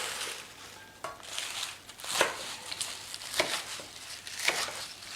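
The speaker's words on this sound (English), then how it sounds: "Okay, so we are chopping the spinach." Knife chopping spinach on a cutting board in a kitchen: several crisp, separate chops at an unhurried, roughly even pace, close and moderately quiet, with no talking.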